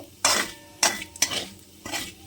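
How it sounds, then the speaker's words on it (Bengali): Bay leaf, dried chili and black cumin being stirred in hot oil in a pan, four scraping strokes of a spatula each bringing a burst of sizzle, close up with no talking. "এবার একটু ভালো মতো তেলের মধ্যে নাড়াচাড়া করব।"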